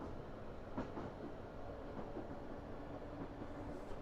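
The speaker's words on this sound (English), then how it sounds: "Another train coming." A train on the Portsmouth Direct Line rumbles steadily past on the railway, with faint clicks of wheels over rail joints under a constant low roar that stays fairly distant.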